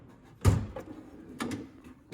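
Harbor Freight toolbox drawer sliding open, a short metallic thump and slide followed by a second fainter rattle, close and fairly quiet.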